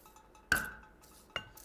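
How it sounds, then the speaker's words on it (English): Two sharp metallic whacks of a small frying pan smashing garlic cloves on a kitchen surface, each a short clang with a brief ring, spaced about a second apart in a quiet room. "if you take a small frying pan, give them a hit like that"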